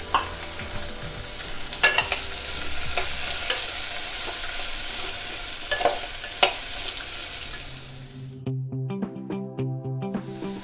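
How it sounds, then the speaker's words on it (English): Vegetables sauté in a ghee and mustard-seed tadka, a continuous loud sizzle with occasional sharp spatula clinks against the pan, then a quieter stretch near the end with softer stirring taps and scraping. "2 minutes of sautéing these veggies in the tadka, in the ghee and rye tadka"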